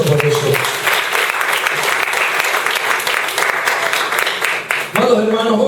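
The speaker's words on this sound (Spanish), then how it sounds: "¿Cuándo le damos un fuerte aplauso a Cristo por eso?" A church congregation breaks into strong, sustained applause, many hands clapping in a dense, continuous roar that fades briefly before a voice speaks over the tail end.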